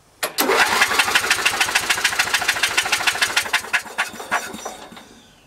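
A Briggs & Stratton 13HP ride-on lawn mower engine with no spark cranks over about 20 times in a steady, rapid chugging rhythm, loud and close, then slows and stops without starting.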